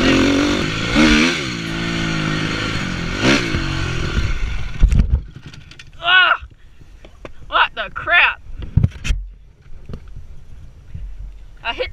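A dirt bike engine revs hard on a dirt track with ruts and berms, a loud close roar with rising and falling pitch that cuts off partway, followed by scattered rattles and clatter.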